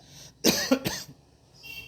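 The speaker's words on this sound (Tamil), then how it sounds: "இங்கே பாருங்க இருமல் வந்துருச்சு" One sharp, close cough in a couple of quick rough bursts, then quiet.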